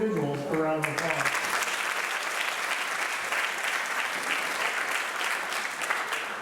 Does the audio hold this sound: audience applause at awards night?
yes